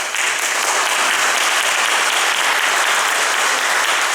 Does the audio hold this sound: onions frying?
no